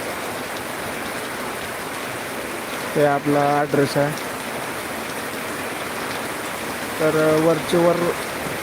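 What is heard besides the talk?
heavy rain falling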